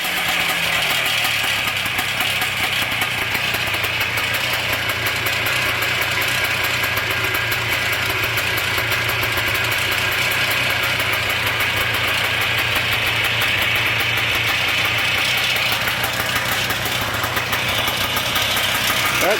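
A 1971 Bultaco Alpina motorcycle engine runs steadily with its muffler fitted, giving a loud, continuous drone that holds an even pitch throughout, with no talking.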